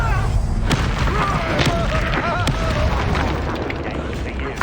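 The Confringo fire-blast spell in the game Hogwarts Legacy sets off a dense booming burst of explosions and combat noise, with someone speaking over the loud clamor.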